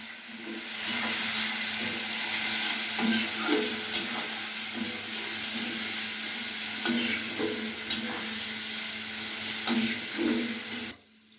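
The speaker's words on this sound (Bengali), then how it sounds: "মা এর মধ্যে দিয়ে দিল কেটে নেওয়া কাঁঠাল এরপর দিল পরিমাণ মতো লবণ হলুদ তারপর ভালোভাবে কিছুক্ষণ নাড়তে হবে" Cut raw jackfruit with salt and turmeric fries in a pan, giving a steady sizzle and hiss while a utensil stirs and scrapes it in irregular clanks throughout.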